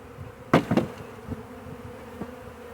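A honey bee swarm buzzes around a box at a ball field, a faint steady hum broken by a few brief close thumps and knocks.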